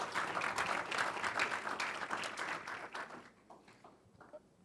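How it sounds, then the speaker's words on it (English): Audience at a Blue Invest Africa conference in Kenya applauding to welcome a speaker, a dense crowd of hands clapping steadily before thinning out and fading toward the end. "Sous vos applaudissements, s'il vous plaît."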